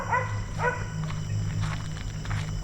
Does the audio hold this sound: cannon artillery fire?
no